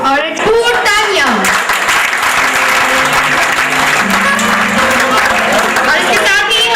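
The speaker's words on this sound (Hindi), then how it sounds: "और खूब तालियां।" Audience clapping at a prize show, steady and loud, runs under a lively mix of shouting voices and musical or vocal tones, with cheering and talk layered on top throughout.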